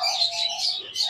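Bonded pairs of blue turquoise pet birds at a Sunday bird market in Bahawalpur chirp and tweet continuously, a dense, bright mix of close, overlapping calls with no talking.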